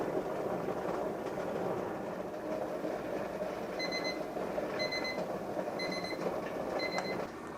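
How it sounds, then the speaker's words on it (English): A kitchen timer beeps in repeated short bursts of shrill tones while canning cowboy candy, sounding over a steady boiling rumble from a pot on the stove. "Once the timer goes off"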